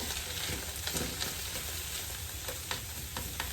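Spinach wilting in a hot pan with garlic for a Home Chef Potatoes Rockefeller dish gives off a steady, close, loud frying sizzle with small crackles and pops, no talking.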